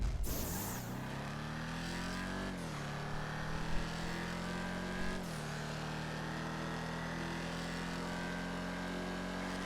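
Vapid Dominator GT convertible muscle car engine in GTA Online on a hot lap, droning steadily with a couple of rev changes and gear shifts, fairly faint and without speech.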